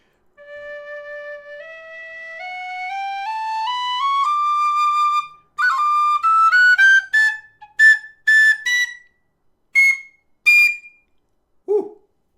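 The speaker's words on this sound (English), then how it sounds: "This is not a quiet whistle. But I like how I was able to play all the way up and down." A Nick Metcalf standard high D tin whistle climbs step by step through its scale in sustained, fairly loud tones, then finishes with a run of short, separate piercing notes followed by a brief low squeak.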